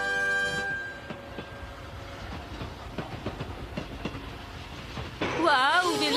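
A train rolls along with rhythmic clacking, then a loud horn sounds at the end, wavering in pitch.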